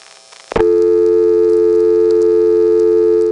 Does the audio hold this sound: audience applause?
no